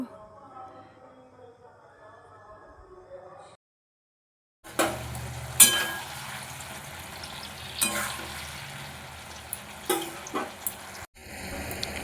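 Spinach curry stirred in a pan, a soft sizzle with intermittent scraping and clinking knocks at close range, following a quiet stretch of faint background sound and a brief silence.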